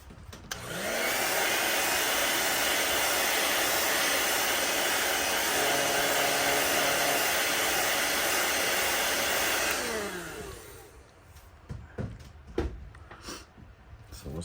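Heat gun blowing hot air to set paint on a swimbait lure, a loud steady roaring hiss for about nine seconds that winds down, followed by light handling clicks and taps.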